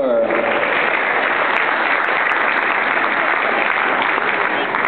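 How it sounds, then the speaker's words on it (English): Audience applauding after a dance performance by Vidisha, a dense steady wash of clapping that holds loud and even throughout without pause. "Let's everyone give a round of applause for her."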